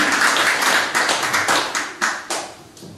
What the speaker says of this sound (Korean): 다시 한번 우리 정 총리께 큰 박수를 드리고 애쓰시는 것 감사합니다